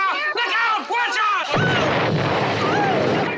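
A fiery explosion from The Birds as flames race along spilled gasoline: shouting voices give way to a sudden loud boom that bursts out and sustains as a roaring, crackling blast to the end.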